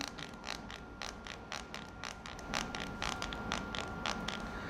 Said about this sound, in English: since the case is made of plastic, you can hear a creaking noise when you press it